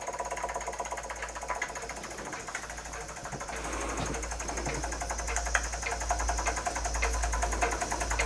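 A Jensen 25 model steam engine running on leftover boiler pressure, chuffing in a fast, even mechanical rhythm over a steady low hum, close and moderately quiet, with no talking.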